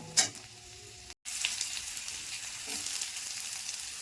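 Chopped garlic fries with panch phoron spices in hot oil, a steady bright sizzle that flares briefly at the start and keeps crackling evenly, close and fairly loud.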